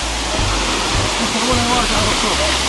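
A swollen, fast-flowing river carrying mud rushes in a steady broadband roar, loud and continuous throughout, with a voice faintly audible beneath it.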